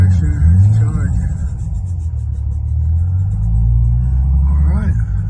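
A 1940 Chevy truck engine idling with a low, steady rumble nearby while someone talks over it.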